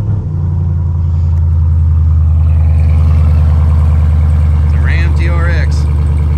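A 2023 Ram TRX's supercharged engine fires up and settles into a loud, deep, rumbling idle close by, with a voice talking briefly over it near the end.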